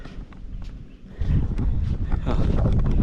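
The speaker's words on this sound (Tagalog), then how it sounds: "Taas ang hangin dito sa taas." Strong wind on a high mountaintop viewpoint buffets the microphone with a loud, rumbling roar that surges and stays heavy and steady.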